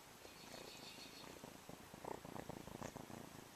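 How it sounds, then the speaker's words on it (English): A feral kitten purrs in a cage, a faint, steady low rumble that runs through the whole stretch with small rustles over it and no talking. "He's my little buddy, and if you can hear, he's purring."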